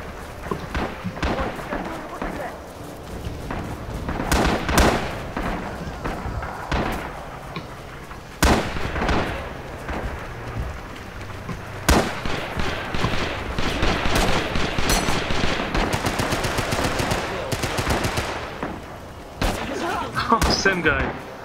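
A sustained artillery barrage in the shooter Rising Storm: dense, irregular bursts of loud impacts and gunfire crackle, some sharp and close, others rolling and overlapping in a continuous rumble.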